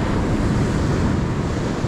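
Surf washing in where a clear, icy river flows into the sea, a steady broadband roar of waves mixed with wind buffeting the microphone, continuous and fairly loud throughout.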